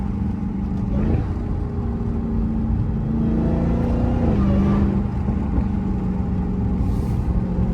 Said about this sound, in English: Little whine for you guys.